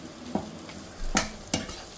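Spices fry in a non-cast-iron pan under a soft sizzle, with three short scraping stirs of the spatula close by.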